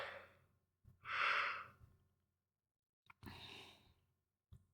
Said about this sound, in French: Excusez-moi, j'ai baillé.